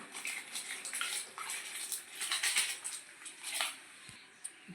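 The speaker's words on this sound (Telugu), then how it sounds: "రైస్ నానబెట్టుకున్న రైస్ ఇప్పుడు మనం వాటర్లో వేసేస్తున్నామండి." Soaked rice tipped into a pot of boiling water while making mutton biryani, a close splashing, pattering rush of water with uneven bursts and no talking.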